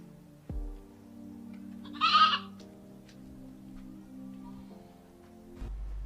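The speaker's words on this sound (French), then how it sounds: "à qui appartient cette chèvre?" A goat in a Nigerian film scene gives one short, nasal bleat over a low, steady hum of background music.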